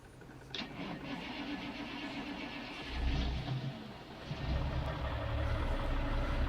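A tuned 1985 Cummins 855 truck engine, 480 horsepower, starts up in American Truck Simulator. It cranks briefly and then settles into a deep, steady idle rumble that carries on to the end, with no talking.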